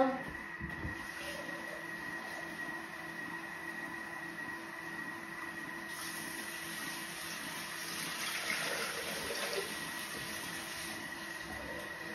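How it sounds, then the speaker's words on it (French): 800 g of water being poured into a food processor bowl makes a faint, steady, continuous trickle throughout, with a speaking voice over it. "mettre 800 g d'eau dans le bol"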